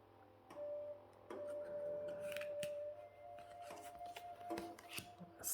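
A deck of slightly sticky shamanic oracle cards printed with Hebrew letters is shuffled by hand. Soft papery flicks and light taps come up close over a faint steady tone.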